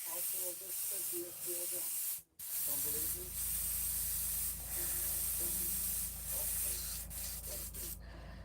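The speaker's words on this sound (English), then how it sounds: "We're going to use Timothy John Luke's airbrush" An airbrush sprays paint onto a Halloween pumpkin, giving a steady airy hiss that runs almost the whole time. It drops out briefly once, with faint background noise and possible low voices underneath.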